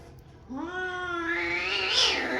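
A single drawn-out cat meow, close and loud, rising into a strained wail toward the end.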